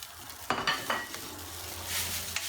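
Eggs frying in a pan with a little too much oil and some mash for egg fried rice, a steady sizzle broken by a few sharp stirring scrapes near the start.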